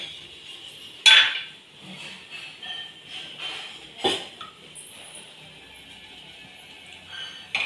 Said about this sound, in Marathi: पातेला ठेवते मी.